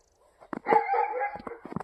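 A neighbour's dog lets out a short, whining howl at moderate distance, with a few crunchy steps on snow around it.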